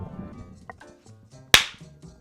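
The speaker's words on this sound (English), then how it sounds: "That was a good clap. That was a really good clap." One sharp, loud hand clap rings out alone midway, standing clear above faint background murmur and quickly decaying.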